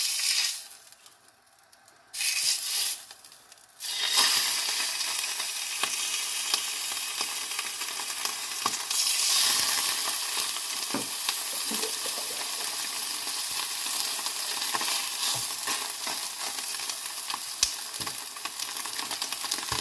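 Seabass fillet pan frying, a steady close sizzle with crackling spits and pops. It starts quietly with a few brief gaps, then runs loud and continuous to the end, with no talking.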